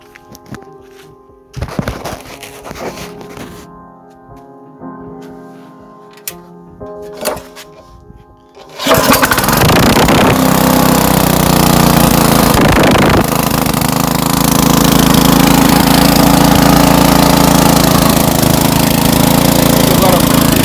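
Auger branch shredder's engine, suspected clogged carburetor jet, is quiet at first with light handling knocks, then fires at about nine seconds and roars loudly and steadily to the end.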